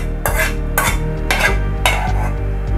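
Ghee, dried red chili and cumin being stirred in a pan for rice bhog: four sharp metallic scrapes and clinks of a spoon against the pan, close and evenly spaced, over a faint sizzle and a low tonal hum.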